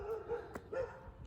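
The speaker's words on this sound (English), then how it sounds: "that's our neighbor's dog." A neighbor's dog barks a few times at a distance in a backyard garden, the barks faint and intermittent over quiet outdoor ambience.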